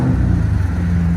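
Steady, loud, deep exhaust rumble from a Jeep Trackhawk's 6.2-liter supercharged V8 with a Borla exhaust, heard close up and without talk.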